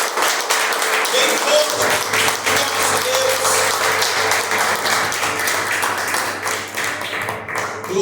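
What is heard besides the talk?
congregation clapping in church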